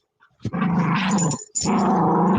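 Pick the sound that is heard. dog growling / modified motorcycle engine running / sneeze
dog growling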